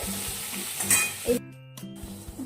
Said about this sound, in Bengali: এবার আলুটা আর ঝিঙেটা একটু ভাজা ভাজা হোক